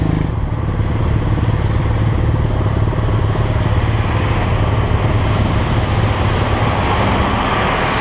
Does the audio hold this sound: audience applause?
no